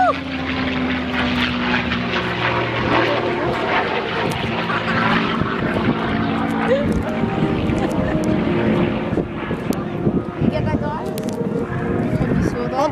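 Propeller aircraft engines drone steadily at the Avalon airshow, a continuous loud roar with crowd and commentary-style talk mixed in throughout.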